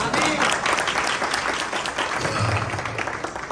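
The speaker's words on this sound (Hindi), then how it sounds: "कुछ लोग ताली बजा रहे हैं लेकिन डर डर के।" Conference audience clapping throughout, a dense and fairly loud wash of applause from a crowd indoors that fades slightly toward the end.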